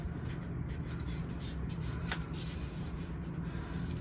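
Filter paper is folded in half into a cone at a gravimetric analysis lab bench, giving a soft, close paper rustle and rubbing against a steady hiss, with no talking.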